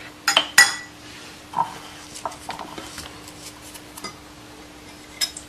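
A spoon lightly mixes gram flour and rice flour batter for a vegetable omelette, giving a few sharp clinks against the bowl at the start, then sparse, fainter taps and scrapes in a quiet room.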